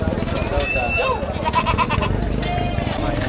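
Goats bleat at a busy livestock market where a pair of male goats is up for sale, the wavering calls rising over steady crowd chatter and nearby talk.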